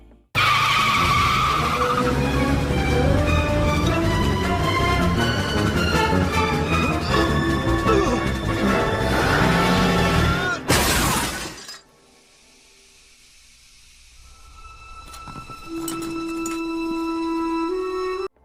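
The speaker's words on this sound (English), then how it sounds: "running Jeffrey over with Peter's car and smashing him against a tree" Cartoon car skids and crashes into a tree, with a dense burst of screeching tires and music-like tonal layers ending in a loud smash around the middle, followed by quieter ringing tones and lingering sounds.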